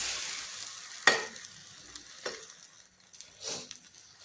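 Onion and egg omelette batter is ladled into a hot pan, hissing as it hits, and frying continues with a few sharp sizzle bursts and soft stirring scrapes close by, with no talking.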